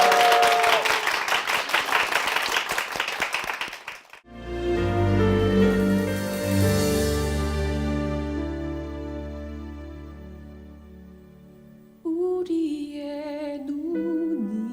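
A church congregation claps warmly to bless a family, a dense, steady round of applause lasting about four seconds, then giving way to sustained organ or keyboard chords and singing.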